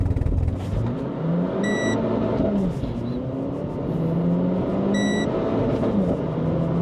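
A sports car on launch control is held at full throttle, its engine droning loudly and steadily close by, with two brief electronic chimes sounding over it.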